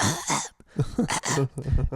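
A voice imitating a baby coughing at night, giving a short run of rough, throaty coughs and hacks in quick succession, close and loud.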